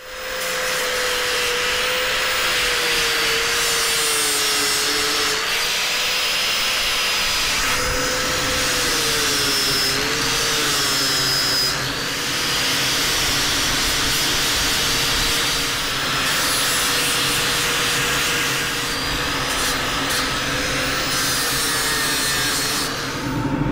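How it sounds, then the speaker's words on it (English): An angle grinder with a flat sanding wheel grinds across the wood of a natural edge tripod bowl, a loud continuous whine with a wavering pitch and rough abrasive hiss that changes as the wheel shifts pressure. "I do that with an angle grinder with"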